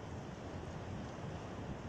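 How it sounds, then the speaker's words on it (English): Surf rolls and crashes onto the shore at Hamlin Beach State Park on Lake Ontario, a steady, dense wash of breaking waves with wind noise and no voices throughout. "get a little closer look at waves crashing down"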